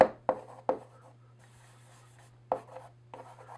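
Handwriting while working a logarithm problem: a pen taps and scratches across paper in short bursts, a few sharp strokes separated by quiet pauses, close and soft, over a faint steady hum.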